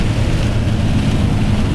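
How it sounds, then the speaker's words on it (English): Steady rain falls during a squall at Multnomah Falls in Oregon, a loud, dense, continuous hiss and patter close around with no break and no voices. "We're going right up in the rain."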